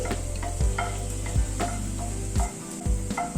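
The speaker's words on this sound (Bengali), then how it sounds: "গ্যাসের ফ্লেমটাকে কিন্তু মিডিয়ামে দিয়ে রসুনটাকে হালকা করে ভাজছি" Garlic sizzles steadily in a pan over a medium gas flame, close and fairly quiet, with a few soft scraping stirs of a spatula breaking the even frying hiss.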